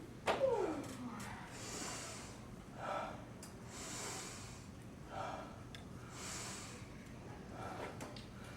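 Deep, controlled breaths drawn before a black belt karate kata, with three or four slow, audible inhale-and-exhale cycles spaced a couple of seconds apart over a low, steady background.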